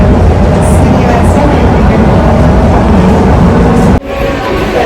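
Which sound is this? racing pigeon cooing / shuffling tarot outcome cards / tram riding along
tram riding along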